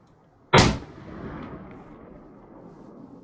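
A single loud 30-06 rifle shot fired offhand outdoors, a sharp close blast followed by a long fading rumble of echo.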